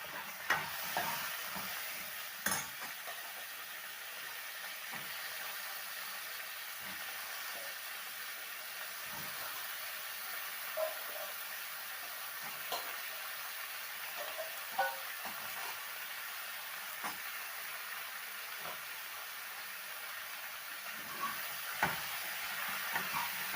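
Chopped radish sautés in a pan for sambar, giving a soft, steady hiss and sizzle with scattered light clicks of stirring throughout.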